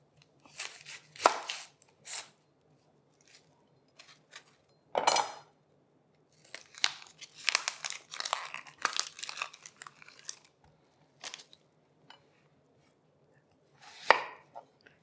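A knife peeling and slicing an onion makes irregular crisp cuts and papery crackles, sharp isolated chops mixed with quick clustered bursts, close and clear in a quiet room with no talking.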